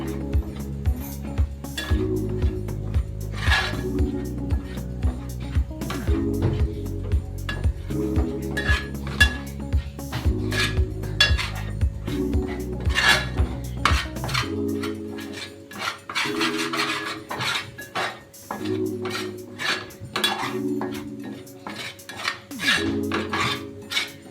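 Gram flour being stirred and roasted in a pan, a metal spoon scraping and clinking steadily against the pan throughout, with a low hum in the first half that drops out midway.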